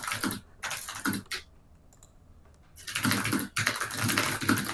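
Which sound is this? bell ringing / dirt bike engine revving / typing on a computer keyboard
typing on a computer keyboard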